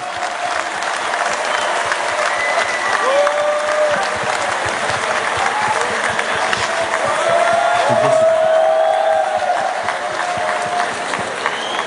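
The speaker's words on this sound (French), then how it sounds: "Allez, on les applaudit, c'est parti." A large crowd at the WorldSkills 2023 opening ceremony in Lyon claps continuously, the applause swelling slightly midway, with occasional cheers and a few voices and tones rising above the steady roar.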